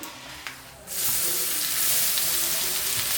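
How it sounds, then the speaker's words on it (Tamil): Grated coconut and asafoetida hit a hot pan and sauté; after a second of near quiet, a loud, steady sizzle bursts in and continues close up. "சேர்த்து நல்லா இந்த சூட்லேயே வதக்கி எடுத்துக்கலாம்"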